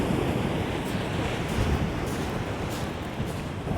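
Stormy surf and gusting wind on Chesil Beach at Abbotsbury: a dense, continuous roar of breaking waves and buffeting wind noise on the microphone, loud and unbroken throughout.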